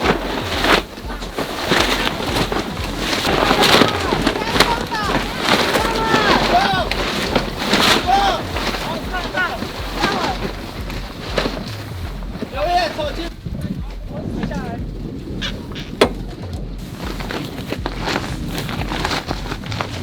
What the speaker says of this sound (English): now the wind has picked up quite a lot